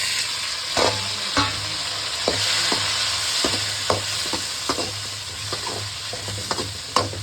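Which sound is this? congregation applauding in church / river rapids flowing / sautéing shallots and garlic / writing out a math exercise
sautéing shallots and garlic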